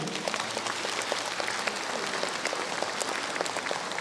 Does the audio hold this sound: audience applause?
yes